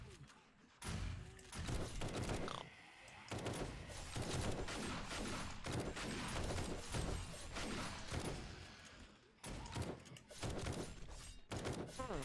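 Rapid gunfire rattles through a blood moon night in the co-op survival game 7 Days To Die, with dense volleys of shots and thuds running almost continuously, loud and close, while players talk over it.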